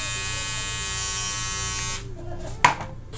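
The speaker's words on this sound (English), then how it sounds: "After you can just press and start machine and use trimming your hairs." A Kemei 696 hair clipper trimmer runs with a steady, close electric buzz for about two seconds, then switches off, followed by a brief click and handling noise.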